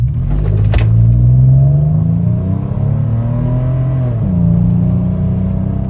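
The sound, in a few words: vehicle driving a run on a straight road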